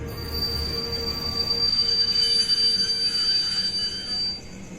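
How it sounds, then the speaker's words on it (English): Train brakes squeal as a steam engine pulls into a station near a tunnel, a sustained high metallic whine over a loud rumbling rolling rush that eases off near the end. "he slammed on the brakes"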